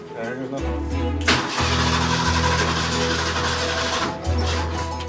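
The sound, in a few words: old truck engine starting after a year and a half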